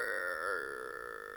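A frog gives a single sustained, droning burp-like call from an inflated throat sac, steady and close for over a second with no other sounds.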